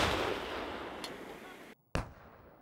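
A 155 mm howitzer fires during a multinational military training exercise, heard as a broad, loud rumble of blast noise, then two sharp reports, the second coming just after a brief silent gap.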